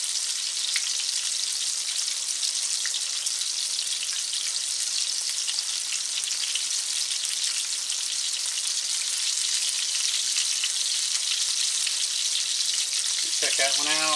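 Pecan-crusted goose pieces fry in a hot pan with a steady, close, bright sizzle that holds throughout, with a few faint scrapes as the meat is shifted and turned near the end.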